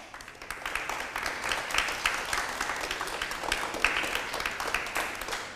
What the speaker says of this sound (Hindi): तालियां बजा दें अपने लिए